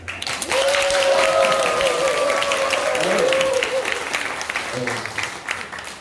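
An audience at a church celebration service breaks into sustained applause that swells and holds for several seconds, with a voice speaking over the clapping.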